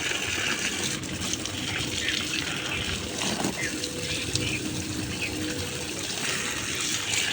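Water gushes and splashes steadily throughout as plants in a rooftop garden are watered, a continuous close pouring sound with a faint murmur in the background.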